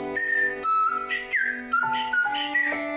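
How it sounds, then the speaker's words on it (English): A 3D printed whistle blown in a series of short, loud, close blasts, its pitch stepping between several tones to change the melody. "whistle works, it changes the melody"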